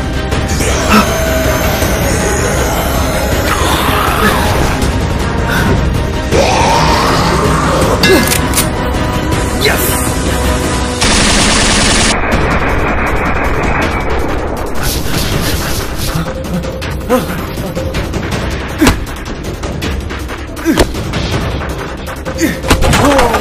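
Heavy gunfire and booming blasts rattle through a zombie short film scene: dense bursts of shots and crashes, loud and close, running almost continuously with brief changes in texture and a few sharper reports near the end.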